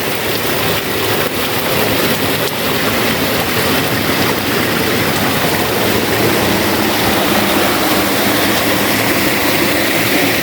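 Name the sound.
water flowing from a natural spring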